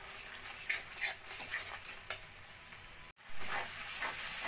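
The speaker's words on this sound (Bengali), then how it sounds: "এবার বেসন আর মিট মশলাটাও দিয়ে ভালো করে কষিয়ে নেব।" Tomato masala with gram flour and meat masala sizzles and fries in a pan while a spoon stirs and scrapes it in uneven strokes, close and fairly quiet, with a brief silent break near the end.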